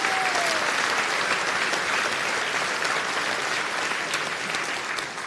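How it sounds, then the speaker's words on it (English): A large crowd at a Reform UK local election rally in West Sussex breaks into steady, dense applause that holds loud throughout, with faint talk underneath. "Big round of applause there."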